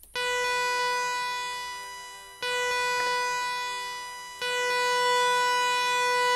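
A Woovebox synth lead voice holds one loud, sustained tonal note, retriggered twice so it swells back up after each brief dip, with no other sounds around it.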